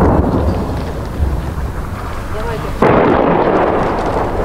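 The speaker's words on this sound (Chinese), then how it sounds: "尽管已看不见俄军，但轰炸声还是没有停歇。" Bombardment explosions in war-torn Kupiansk, Kharkiv region, Ukraine, roll as a loud, continuous rumbling wash of blasts. A sharper surge hits near the end.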